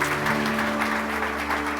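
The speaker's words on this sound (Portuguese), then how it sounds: "Você pode aplaudir a esse Deus maravilhoso." A church congregation applauds during a worship service, a steady wash of clapping from many hands at moderate distance, with a sustained organ-like tone underneath.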